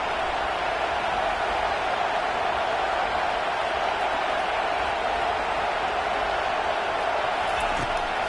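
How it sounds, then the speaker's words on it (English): A football stadium crowd roars behind the defense on third down, a dense, loud, unbroken wash of cheering noise that holds steady from start to finish. "Decibels rising as the crowd gets behind this defense on third down."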